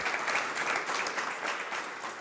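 An audience at an EU policy dialogue applauds steadily, a dense, even patter of clapping filling the room for a couple of seconds.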